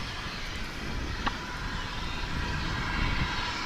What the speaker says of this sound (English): Dreamliner off to the land of the rising sun.